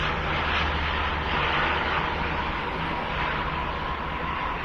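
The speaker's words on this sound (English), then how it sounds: "There's a plane up there, and I'm outside right now. We'll let it pass." An airplane passes overhead outdoors, a steady, even engine roar that holds at a moderate distance throughout with no other distinct sounds.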